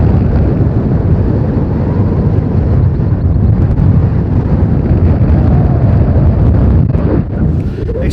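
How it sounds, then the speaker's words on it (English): Strong wind buffets the microphone on top of Pendle Hill, about 557 metres up, with a constant loud, low roaring rumble that continues without a break throughout. "Excuse the wind, it's a little bit windy up here."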